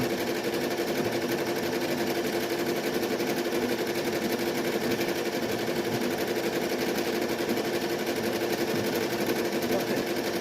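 Brother SE 1900 embroidery machine stitching a beanie in a magnetic hoop, a steady fast mechanical chatter that runs loud and unbroken from start to finish.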